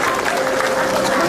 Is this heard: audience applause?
yes